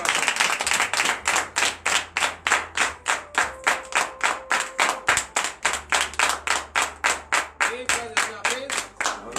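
A congregation at a morning prayer service claps in a fast, steady unison rhythm for over nine seconds, loud and sustained, with a voice calling out beneath it and organ-like tones.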